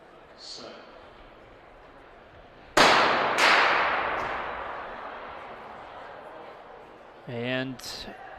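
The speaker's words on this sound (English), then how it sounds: "We await the gun." At an indoor college track championship race, a starter's gun fires a sharp loud crack followed quickly by a second shot, echoing through a large hall, with a voice talking faintly before and after.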